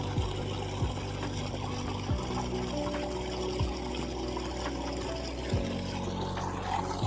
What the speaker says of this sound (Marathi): तो तिकडं पाणी भरतोय